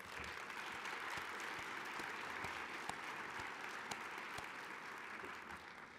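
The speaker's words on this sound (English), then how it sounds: "I think that deserves a round of applause." An audience at a university association's national meeting applauds faintly and evenly for several seconds, a distant wash of clapping with a few sharper claps.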